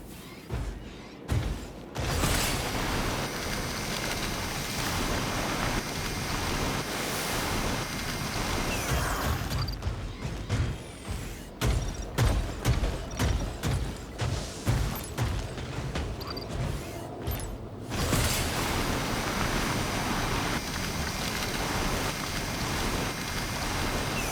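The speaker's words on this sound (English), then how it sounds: "It's faint, but I can hear a cradle engine." A cradle engine in the video game SYNDUALITY Echo of Ada gives a continuous broadband mechanical rumble with a windy, wave-like wash, broken midway by a stretch of rhythmic pulsing surges before the steady roar returns.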